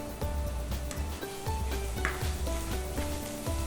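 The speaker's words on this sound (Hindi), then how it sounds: "इस रेसिपी में प्याज को ब्राउन करना है, तो ये समय लेगा।" Onions browning in a hot pan for dhaba-style chicken bhuna give a steady, close sizzle and frying crackle, broken by a regular rhythm of stirring scrapes and knocks.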